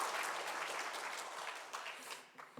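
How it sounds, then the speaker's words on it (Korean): A church congregation at a Sunday service gives a big round of applause, a dense burst of clapping that gradually thins and tapers off toward the end. "우리 다시 한번 큰 박수로 함께 축복하겠습니다"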